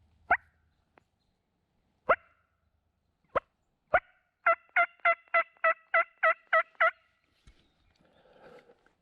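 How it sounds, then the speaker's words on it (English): A few sharp, separate calls ring out, then a wild turkey lets loose a fast, rattling gobble of about ten quick notes, somewhat distant in quiet surroundings on public land in Nebraska. "we got one gobbling"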